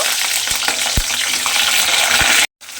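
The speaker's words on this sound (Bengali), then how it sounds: "তেলের মধ্যে আমি শিমগুলো দিয়ে দিয়েছি।" Flat beans hiss and crackle steadily in hot oil, a loud close sizzle broken by a few soft stirring knocks and a brief cut to silence near the end.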